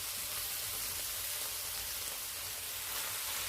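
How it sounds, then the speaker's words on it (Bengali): Small mourala fish frying lightly in oil in an iron wok, giving a steady, even hiss of sizzling throughout with no talk. "আমি লোহার কড়াইতে ভাজছি"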